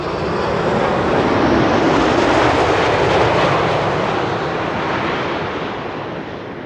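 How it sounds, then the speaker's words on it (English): A KLM Boeing 787-10 Dreamliner airliner arrives with a steady broad jet-engine roar that swells and then fades slightly, close and loud, with no voices. "KLM flight 668 arriving from Austin, Texas, 787-10 Dreamliner"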